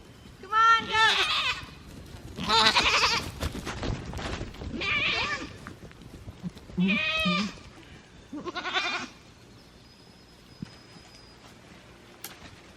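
Goats on a homestead bleat in several loud, close bursts spread across the stretch, with quieter gaps between calls.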